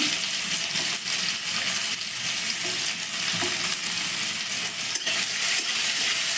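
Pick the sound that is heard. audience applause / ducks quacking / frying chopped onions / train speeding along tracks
frying chopped onions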